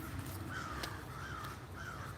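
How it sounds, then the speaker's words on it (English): Crows caw outdoors in a short run of rough, repeated calls, a few seconds apart, set against a constant outdoor background hum. "You hear all the crows?"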